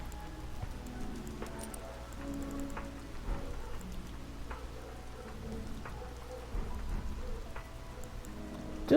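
Night rain falling steadily in a video game, a soft continuous patter with scattered drips and faint low rumbles, at an even, moderate level throughout.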